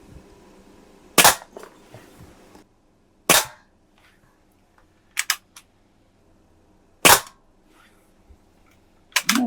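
Pellets from a Daisy 853 .177 air rifle strike a hanging tin can in a can-cutting contest, giving five sharp, isolated metallic cracks spaced a second or two apart against a quiet background.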